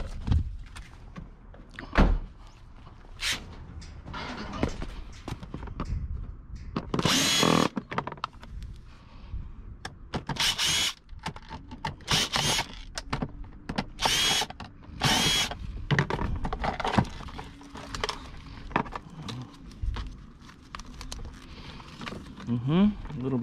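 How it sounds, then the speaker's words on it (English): A cordless drill whirs in several short bursts at close range, interspersed with clattering, handling noises and occasional talking. "I think I need my drill."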